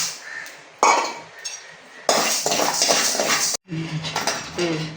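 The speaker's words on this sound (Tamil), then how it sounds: "1/2 கப் அரிசி, அதை எடுத்து வறுக்கணும்" Half a cup of rice dry-roasting in a metal pan. Close, bursty scraping and clinking of a utensil against the pan comes in uneven spells, separated by brief quieter moments, with no talk.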